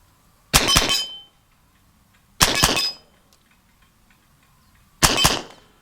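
Three sharp metallic pings spaced about two seconds apart as .25 caliber pellets from an Evanix Viper semi-automatic PCP air pistol strike an AR500 steel target, each ring decaying quickly into a quiet outdoor background.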